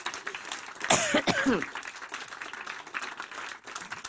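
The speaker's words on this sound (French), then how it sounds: "Cette toux que j'ai retenue jusqu'au dernier accord ne faisait pas partie de la chanson" A couple of sharp, close coughs burst out near the start, followed by quieter rustling and faint room noise.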